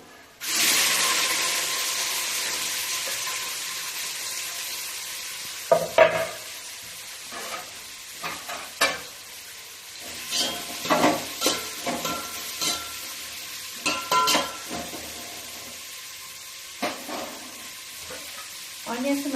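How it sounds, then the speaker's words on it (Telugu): Onions frying in a pan with cloves, cardamom and caraway for chicken curry: a steady loud sizzle at first, then quieter crackling and repeated stirring scrapes and clinks. "ఆనియన్స్ మంచిగా వేగడానికి పెట్టుకొని మూత పెట్టేసేయండి"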